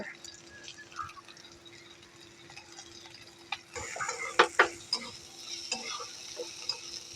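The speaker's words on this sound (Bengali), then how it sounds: "এখন দিয়ে দিচ্ছি পেঁয়াজ কুচি আর দিয়ে দেবো লঙ্কা কুচি" Chopped onion and chilli are added to garlic frying in hot oil, with a faint sizzle at first, then a louder burst of crackling frying and stirring clatter.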